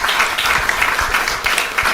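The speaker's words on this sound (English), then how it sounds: "Give a round of applause." Applause from an audience at a Sydney road show event during Diwali, a dense, steady wash of clapping lasting the whole moment, fairly loud and close.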